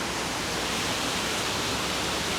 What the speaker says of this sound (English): I think this is the waterfall, right?